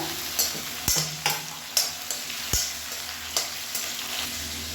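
Onions sautéing in a pan for a spicy mint dish, with a steady sizzle and repeated sharp scrapes and knocks of a spoon stirring against the pan, about a half-dozen strokes, close and fairly loud, without talk.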